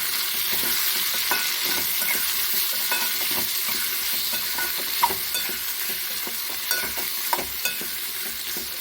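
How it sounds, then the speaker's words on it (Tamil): Onions, curry leaves and tomatoes sauté and sizzle in a pan for a bottle gourd kuzhambu, a steady frying hiss with scattered scrapes and taps as the mixture is stirred, close and continuous with no talking. "சேர்த்துட்டு நல்லா கலந்து விட்டு வதக்கி விட்டுக்கலாம்."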